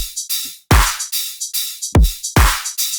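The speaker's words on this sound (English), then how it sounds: "pretty simple like pattern with basic kick and basic clap" Punchy future riddim electronic drum loop: deep booming kicks alternating with sharp snappy claps in a steady, simple pattern, loud and dry.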